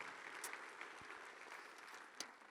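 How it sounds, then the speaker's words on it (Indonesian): A seminar audience claps together, a dense, even patter of many hands heard from a distance and fairly quiet, with a few sharper claps standing out. "Tepuk tangan dulu dong Bapak Ibu."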